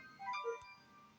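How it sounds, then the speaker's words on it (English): A short phone text-message chime sounds alone and fairly quietly, a few bright tonal notes rising over about half a second before fading into near silence. "That was a stupid text about unused apps on my phone."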